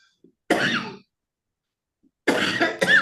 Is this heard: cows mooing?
no